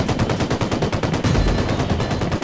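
Rapid automatic gunfire from the video game Ghost Recon Wildlands rattles in continuous fast bursts, loud and dense for the whole stretch, with no talking over it.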